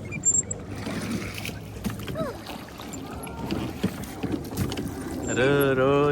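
A small rowboat rowed on open water in Australia, with splashing and steady wind buffeting the microphone throughout and voices talking intermittently over it.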